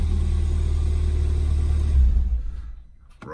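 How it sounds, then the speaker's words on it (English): A manual car's engine idles with a steady low rumble and then switches off, the sound dying away into near silence before a faint click at the end. "Yep, car starts. Let's turn her off."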